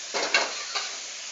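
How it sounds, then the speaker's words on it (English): White pepper toasts in a hot pan over high heat, giving a soft steady sizzle with two or three brief scraping stir strokes, close and fairly quiet. "White pepper, because I want to toast it a little bit in the pan."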